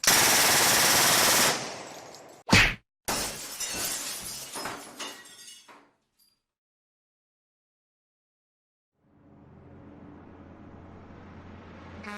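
Gunfire from a video game character's gun: a burst of loud rapid shots at the start, then a sharp crack and breaking glass with clattering debris, followed by near silence and a low hum returning.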